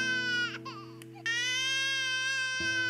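A baby-crying sound effect plays in Roblox Studio: a short wailing infant cry, a brief pause, then a longer sustained wail, heard clearly over a steady looping game music tone.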